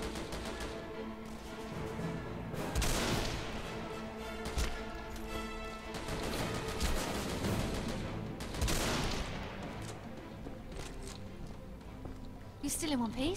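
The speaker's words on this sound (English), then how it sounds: "Someone shot me." Rapid bursts of gunfire in the Deadfall Adventures shooter game, several clusters of shots and impacts over a steady bed of game music and effects, with a voice talking throughout.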